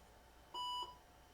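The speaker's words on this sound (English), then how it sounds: "Single beep." A single short, pure electronic startup beep from an IBM PS/2 Model 65SX computer, clean and steady for about a third of a second over a quiet background hum, with no talking.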